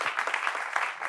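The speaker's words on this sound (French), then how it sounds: "Applaudissements." A short burst of studio-audience applause on a French talk show, a steady even patter of many hands clapping at moderate volume.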